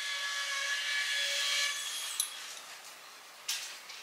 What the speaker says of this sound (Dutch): De overkant wordt er geboord.